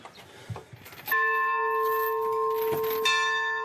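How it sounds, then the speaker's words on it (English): A church bell in a French village strikes with a bright, sustained ring that hangs and hums, then strikes again near the end. Faint murmuring precedes the first stroke. "the ringing of the church bells is still seen as a privilege"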